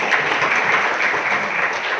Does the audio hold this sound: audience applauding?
yes